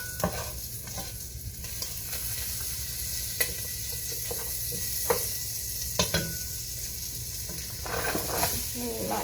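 Cube of butter melts and sizzles in a pan as the base for a pork sarapatel curry, a steady close frying hiss with occasional spatter pops and stirring scrapes throughout.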